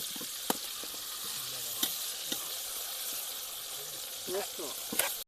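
Green chillies for gobi manchurian fry in hot oil, giving a steady broadband sizzle with a few sharp clicks and pops, while faint voices murmur in the background.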